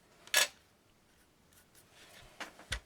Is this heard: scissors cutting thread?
yes